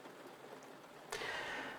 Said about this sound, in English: We have some nice rain sounds in the background.